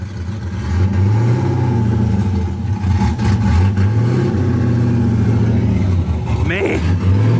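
Stock Chevrolet Camaro SS 1LE 35th anniversary edition revs on a dyno, its engine rising and falling in several loud, close blips over a steady rumbling idle.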